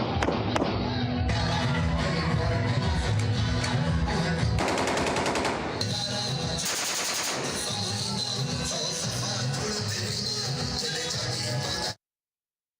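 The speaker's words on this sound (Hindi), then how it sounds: "पीपी उम्मीदवार गुल मोहम्मद मल्लाह के हिमायती कोटरी थाने से चंद गज दूर हवाई फायरिंग करके कानून की धज्जियां उड़ाते रहे" Aerial gunfire by election supporters near the Kotri police station during local body election celebrations, heard as sustained loud crackling bursts over a dense background of crowd noise and music.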